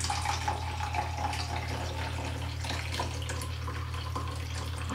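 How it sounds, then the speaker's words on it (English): Water runs and splashes as it is poured to wash developed 35 mm film in a daylight-loading developing tank, a fairly quiet continuous trickle over a low steady hum. "I'm using a succession of water changes here."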